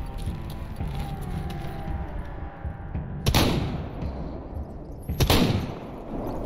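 Two loud shotgun blasts firing buckshot in a video game ring out about two seconds apart. A steady background of game noise runs underneath.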